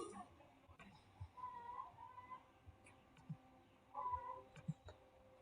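A cat meows softly several times in a quiet room, with short mewing calls spaced irregularly and faint background noise between them.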